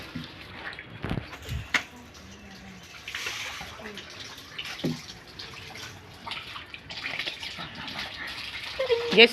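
Water splashes and gushes in uneven bursts as water from mango washing is poured out and replaced, with occasional talking nearby.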